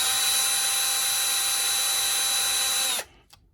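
A power tool spins out screws on a Cen F450 during a locker installation, a steady high whirring drill sound that runs loud and unbroken for about three seconds, then stops abruptly, leaving a faint rattle.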